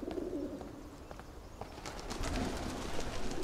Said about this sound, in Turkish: Kuşlar uçtu.